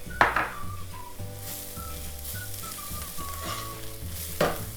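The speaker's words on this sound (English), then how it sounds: "Turmeric powder, we're adding red chili pepper" Turmeric and red chili pepper dropped into a hot pan of oil, a close sizzle with stirring scrapes and a couple of sharp clatters, while soft background music plays.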